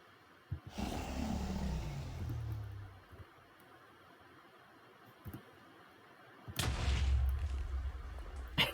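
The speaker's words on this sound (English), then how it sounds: "it summons in an absolutely massive explosion" Two massive explosions from the Brain Blast item in Minecraft SkyBlock, each a sudden loud boom with a deep rumbling tail, the first fading over a couple of seconds and the second following after a quieter gap.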